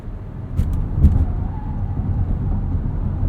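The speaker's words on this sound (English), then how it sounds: "A lot of complaining from these tires" Tires on a 2022 Hyundai Tucson Hybrid Limited complain during cornering, a steady low road roar with a faint rising squeal heard inside the cabin.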